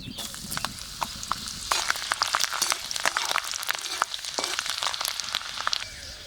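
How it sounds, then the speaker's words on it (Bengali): Garlic and ginger frying in mustard oil in a pan, a steady close sizzle with scattered sharp spattering pops and crackles, no voices. "রসুনটা একটু ঝলসানো হোক"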